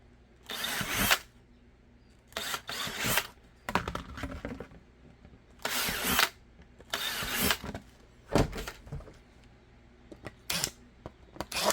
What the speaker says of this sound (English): I will mark and drill this.